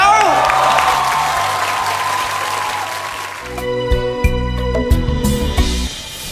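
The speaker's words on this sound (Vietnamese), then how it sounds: "hãy dành một tràng vỗ tay nữa" Studio audience applause with scattered cheers on a Bolero singing competition show, a loud crowd wash under a host's voice, which gives way midway to music with swelling clapping.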